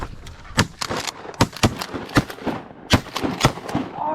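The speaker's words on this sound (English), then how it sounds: "Let's just shoot him." Shotgun shots fired at geese on a late-season hunt by a frozen creek, several sharp loud blasts spaced irregularly over a few seconds, mixed with rustling and movement.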